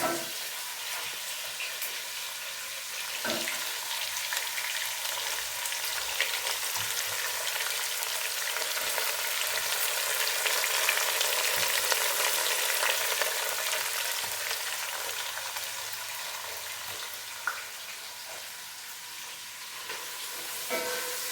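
Onions fry for chicken biryani with a dense, steady crackling sizzle that fills the whole stretch, loud and close with small pops and no talking.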